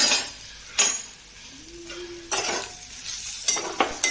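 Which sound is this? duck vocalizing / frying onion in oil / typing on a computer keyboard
frying onion in oil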